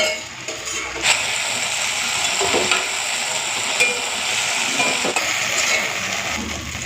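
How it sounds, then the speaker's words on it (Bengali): Okra fries in hot oil until lightly reddened, giving a steady, close sizzle with soft stirring scrapes and occasional utensil clicks throughout; no voices. "ঢেঁড়সটাকে না হালকা লাল করে ভেজে নিয়েছি, তুলে নেবো"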